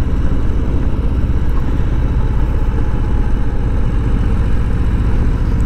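A Harley-Davidson Low Rider motorcycle on the road, its engine a loud, constant low rumble with steady throttle, mixed with wind buffeting, no pauses and no talk.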